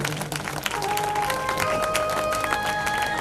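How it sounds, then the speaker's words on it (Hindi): Applause from an audience at a family women's and daughters' gathering honouring mothers, steady dense clapping with some crowd noise and a few tonal sounds threaded through. "उन तमाम माओं के लिए एक बार जोरदार ताली बजा दो"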